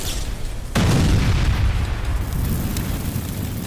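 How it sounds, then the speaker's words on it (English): Helicopter gunship slamming into a mountainside and exploding: a sudden loud boom cuts in, then a sustained roaring, crackling blast that fills the clip with heavy low rumble and fiery hiss. "The gunship slammed into the mountainside in a screaming explosion of spinning blades and torn metal."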